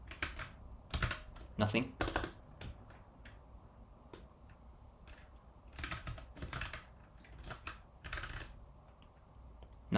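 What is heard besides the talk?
typing on a computer keyboard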